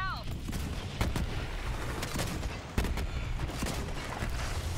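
Gunfire in the video game Borderlands 3, a steady spray of shots with two louder bursts standing out against a dense, continuous game soundscape.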